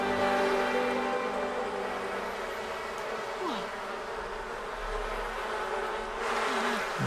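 Bees buzz steadily in The Sims 4 during honey and wax harvesting on a farm, a continuous droning hum that stays loud and close throughout, with a couple of faint swooping game effects and no talk.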